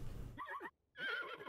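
A horse whinnies on a horse ranch: two loud, close neighing calls separated by a short pause, with no talking.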